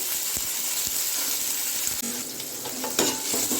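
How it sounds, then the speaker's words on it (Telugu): Ginger garlic paste frying in oil with curry leaves and green chillies, a steady close sizzle with a few soft stirring scrapes and no voices. "కరివేపాకు పచ్చిమిర్చి వేగిన తర్వాత కొంచెం అల్లం వెల్లుల్లి పేస్ట్ వేసుకొని పచ్చివాసన పోయేదాకా కొంచెం ఫ్రై చేసుకోవాలి"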